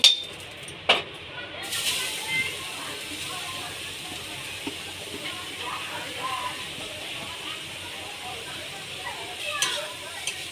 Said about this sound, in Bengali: এবার গাজরটাকে ভালো করে ভেজে নিতে হবে।